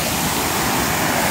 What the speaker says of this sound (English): Waterfalls very loud, but this is the Chagrin Falls.